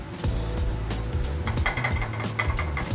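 Mushrooms are shaken and tossed in a frying pan, a metallic scraping rattle with light sizzling, the pan jostled in a few quick bursts, close and clear.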